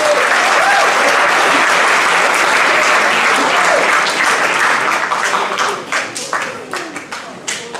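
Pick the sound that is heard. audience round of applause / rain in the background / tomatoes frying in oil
audience round of applause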